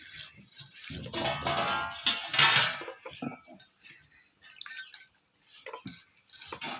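Water splashes and drips while a stone grinding slab is washed, with bursts of close, sloshing water followed by scattered smaller drips and trickles.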